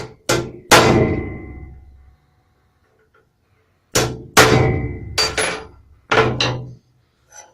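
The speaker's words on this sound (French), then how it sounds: "Un petit coup de pointeau pour pouvoir percer plus facilement." A center punch is struck to mark drill holes on a wooden office chair part being repaired, giving sharp metallic clanks in quick groups of two or three, close and loud, with silent gaps between them.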